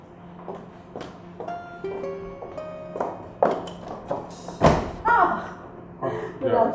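A door is opened and closed indoors, with knocks, thuds and a firm slam among soft footsteps. Voices talk over the movement.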